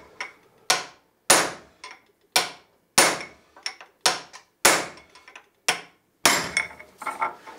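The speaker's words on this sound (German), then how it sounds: "Aber ich nehme schon einen relativ schweren Hammer." A fairly heavy hammer strikes while a wooden hand plane is being built, giving about a dozen sharp, loud blows in an uneven rhythm. Each hit rings briefly and stands alone against near silence.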